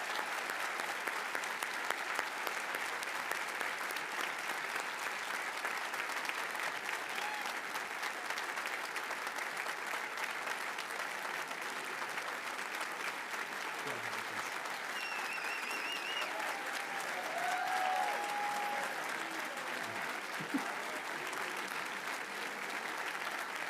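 A commencement audience at Cushing Academy applauds retiring faculty, sustained dense clapping from a large crowd filling the hall at an even level for over twenty seconds, with faint scattered voices and a brief whistle-like tone.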